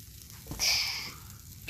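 Black-eyed pea patties frying on a hot griddle, giving a short, close hiss of sizzling that swells briefly and fades.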